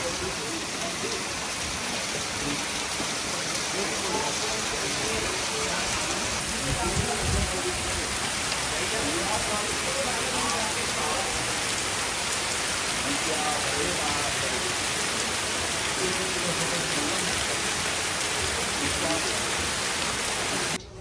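Steady, dense heavy rain pours down in Vrindavan during flooding, a broad unbroken hiss of drops on surfaces with no pauses.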